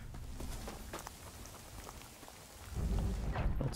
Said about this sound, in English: Stop it, storm. You're scary.